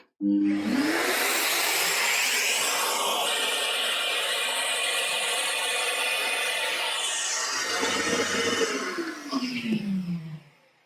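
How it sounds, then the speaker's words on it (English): An Evolution corded wet and dry vacuum cleaner rated at 1700 watts runs steadily at close range, its loud motor whine holding for about nine seconds before spinning down near the end. "This Hoover's got 1700 watts of power, which is more than the battery powered Hoovers."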